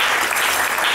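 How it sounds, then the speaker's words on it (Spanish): A theater audience applauds a festival director during cast introductions at a stage play, a loud, dense burst of clapping lasting about a second. "Alma, a quien pido un fuerte aplauso"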